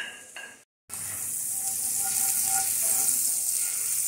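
Minced garlic hits hot olive oil in a pan, breaking into a steady, bright sizzle after a brief silence, continuing close and even to the end.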